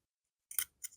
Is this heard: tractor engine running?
no